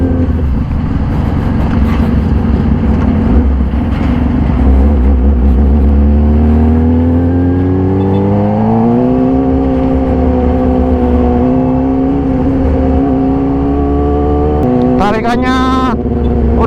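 A 2014 Yamaha YZF-R6 fitted with an SC full exhaust, PC5, new spark plug and filter revs loud and close, its engine note climbing and falling in pitch, then rising sharply in a final rapid rev.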